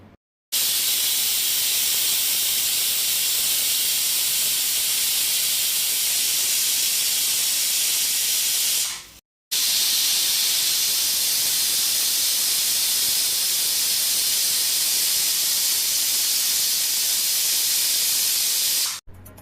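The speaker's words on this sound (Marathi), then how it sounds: "आणि आता 2 शिट्टी घेणार आहे।" A pressure cooker holding sprouted moth beans lets off steam in two long, loud, steady hisses, each lasting about nine seconds and separated by a brief pause, with no talking.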